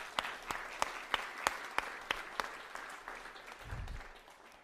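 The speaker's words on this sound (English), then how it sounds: "I want to give a round of applause to the community here in Parkland." Applause from an audience at the grand re-opening of the Parkland Library in Louisville, heard as a run of sharp, evenly spaced claps over a steady bed of clapping that fades near the end. A brief low thump comes near the close.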